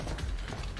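Shotgun being reloaded in a John Wick: Chapter 2 action scene, a dense run of mechanical clacks and ratcheting clicks packed into under a second, loud and close with no gaps.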